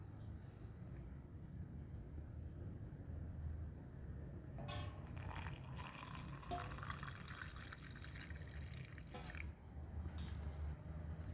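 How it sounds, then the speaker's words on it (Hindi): Lukewarm water is poured into homemade protein powder, a steady filling and trickling that starts partway through and runs for several seconds over a low background hum. "ऊपर से हमने इसके हॉट जो नीम गर्म पानी है वो ऐड कर देना"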